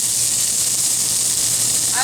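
Onions hit hot olive oil in a pan with a loud, steady, close sizzle and bright hiss that holds throughout the short moment.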